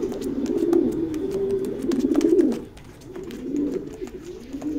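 Pair of black racing pigeons cooing in a loft, soft repeated rolling coos rising and falling close by, with faint background noise and no talking.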